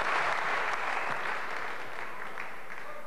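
Audience applause at a 1994-95 world-class table tennis match, Rosskopf against Grubba and Karlsson, a steady dense clapping from a large crowd that fills the whole moment and tapers only slightly.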